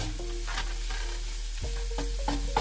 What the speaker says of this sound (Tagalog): Haluin lang hanggang ma-brown din yung sibuyas at saka bawang.